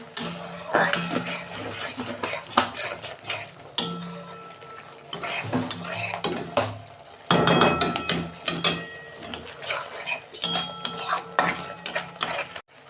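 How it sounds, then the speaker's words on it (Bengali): Spices and ground cumin stir-fried in a pan for an okra dish, with a spoon or spatula scraping and clinking against the metal in frequent irregular bursts, close and fairly loud, with no talk over it. "এবার আমি এইটা কাঁচা গন্ধটা চলে যাবে, আমি 2 মিনিট কষে নেব"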